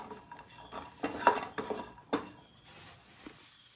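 Raisins and dates fried in ghee in a pan, stirred with a utensil: irregular clinks and scrapes against the metal, a few louder knocks, then a faint soft sizzle trailing off, fairly quiet with no talking.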